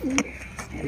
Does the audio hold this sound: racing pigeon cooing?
yes